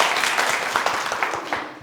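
An audience at a Hindi quiz show bursts into brisk, dense applause, a steady wash of many hands clapping for nearly two seconds with no voices over it.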